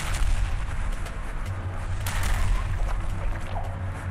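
Heavy gunfire in a video game aimed at an infected tank, loud continuous booming shots and blasts layered over a rumbling background, with no speech.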